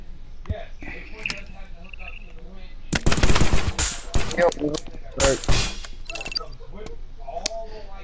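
Rapid gunfire in the Rec Room video game, a couple of loud bursts in the middle of the stretch, with people talking over and around the shots.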